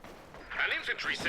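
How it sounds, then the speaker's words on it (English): A single sniper rifle shot in Company of Heroes 2, a short, sharp crack with a brief rolling tail, heard on its own over a quiet battlefield backdrop. "Sniper will take one shot off before immediately retreating."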